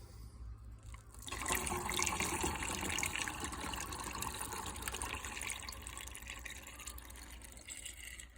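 Film developing liquid being poured back into its container, a steady gushing stream that starts abruptly after a second and runs on close and continuous.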